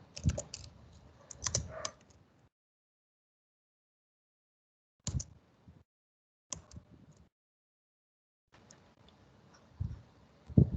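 Short bursts of typing on a computer keyboard, rapid key clicks separated by silent pauses, close and fairly quiet.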